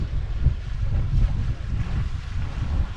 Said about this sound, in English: Finally got the sails full of wind.